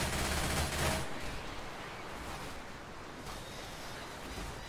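Sustained rapid gunfire from shooting zombies in Left 4 Dead 2, a dense continuous barrage that is loud at first and then continues slightly lower for the rest of the stretch, with no talk.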